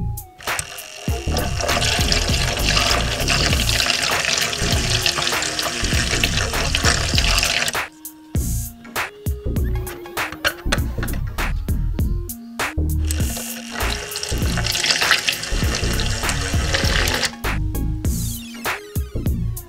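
A toy washing machine runs with water and a couple of small clothes inside, giving a loud, steady mechanical whir and sloshing for several seconds, breaking into clicking, rattling pauses, then starting up again.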